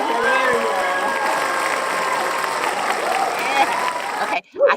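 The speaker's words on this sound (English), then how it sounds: "Clap, Norfolk State, clap" Live-show crowd applause: a steady wash of clapping and cheering at moderate level for several seconds, cutting off sharply near the end, with brief voices mixed in.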